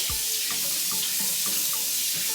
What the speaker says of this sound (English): It's already cooked, but I'm going to wash it.